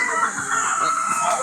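A brief burst of chickens, clucking and crowing blending together at moderate distance, with a steady background hum.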